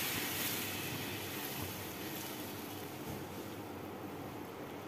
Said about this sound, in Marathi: आता ह्याच्यामध्ये आपण पाणी ॲड करून घेऊया। मॅगीसाठी आपल्याला लागणारं पाणी आहे।